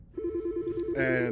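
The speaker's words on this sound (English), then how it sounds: "Sorry, that was just a phone call." A telephone rings with a steady warbling electronic tone, loud and close, joined near the end by a brighter second ringing layer, while a voice briefly speaks over it.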